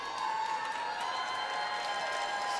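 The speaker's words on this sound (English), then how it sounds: "Some last minute cheers from the crowd" Cheering and clapping from the crowd at a USA versus Russia curling match, a steady, fairly distant wash of arena noise for a couple of seconds.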